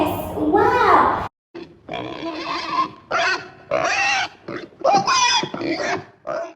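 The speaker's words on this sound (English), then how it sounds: "It's a pig!" A pig grunts and snorts loudly in a string of rough, closely spaced bursts, with short gaps in between. Voices seem to be mixed in with the grunting.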